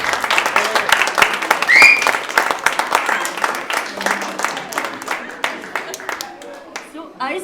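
Audience applause at an Eid evening celebration held by an Indian community association in Sweden: a dense, steady burst of clapping from a seated crowd lasting several seconds, loud and close, with a faint voice briefly audible.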